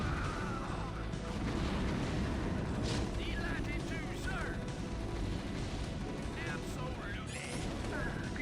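Artillery barrages and explosions in the StarCraft video game as nukes, infantry and artillery support hit an enemy base, with dense continuous rumbling booms and scattered sharper blasts throughout.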